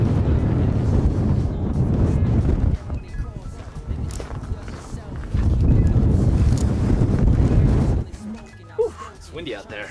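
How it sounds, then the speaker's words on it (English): Heavy wind roars and buffets the microphone in long loud stretches in Nevada, easing briefly before gusting again, with a voice speaking near the end. "It's windy out there."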